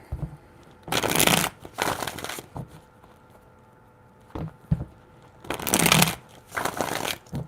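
Tarot cards being shuffled by hand in several separate bursts of crisp riffling and patter, with quiet pauses between them, close and alone.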